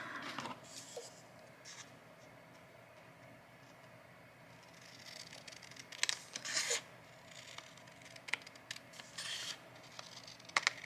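Scissors snip close-up through a paper journaling card at a crafting table. Several quiet crisp cuts come in small bursts over a faint background hush.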